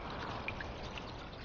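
Water trickles steadily underground, a soft continuous pouring wash with faint droplet plinks, moderately quiet and unbroken, with no talking.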